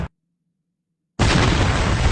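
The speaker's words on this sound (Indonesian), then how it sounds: "Iwan pun harus mati terkena bom sebelum berhasil mencicipi serabi tutung milik Himiko" A bomb blast in an animated film: after a short near-silence, a loud, sudden explosion erupts and rolls on as a sustained, broad roar to the end.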